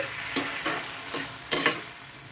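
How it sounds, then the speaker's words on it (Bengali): Brinjal being stirred in a pan with turmeric, red chilli powder and ginger paste, giving a soft frying sizzle with a few distinct scraping strokes at an uneven pace, close and fairly quiet, with no one speaking. "দিয়ে দিচ্ছি অল্প একটু হলুদ অল্প একটু লাল লঙ্কার গুঁড়ো হাফ চা চামচ আদা বাটা এটাকে এখন একটু নেড়ে চেড়ে নিচ্ছি"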